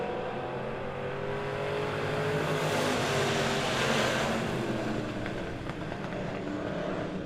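Race cars roar side by side down the backstretch at Monett Motor Speedway during a feature race, a dense, loud, sustained engine drone that swells and fades slightly as the pack passes.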